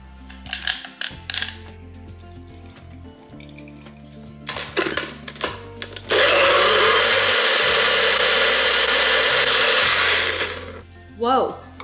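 A blender whirs up a blueberry, cantaloupe and oat milk smoothie in a continuous loud burst of about four seconds. Clinks and kitchen handling noises come before it, and a short second pulse follows.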